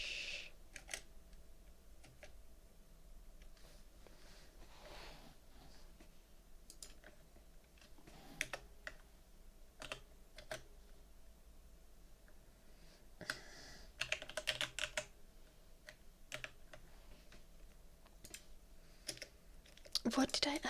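Fingers type on a computer keyboard at close range during an ASMR stream, with soft, scattered key clicks that gather into quicker, louder bursts toward the end.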